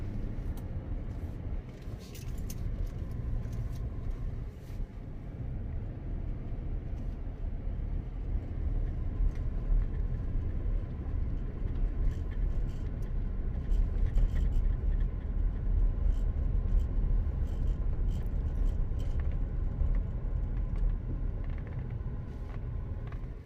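A car drives steadily during a driving lesson, its low engine rumble and road noise continuous throughout, heard from inside the cabin.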